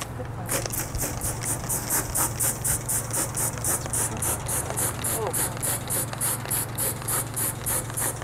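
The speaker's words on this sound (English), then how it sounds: "I'm gonna spray it with water right there in the bowl just to kind of start to set it" Water sprayed from a bottle onto a raku pottery piece sitting in a bowl, a quick run of regular spritzing bursts over a steady low hum.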